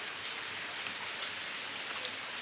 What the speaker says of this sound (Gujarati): જો મિત્રો વરસાદ ચાલુ છે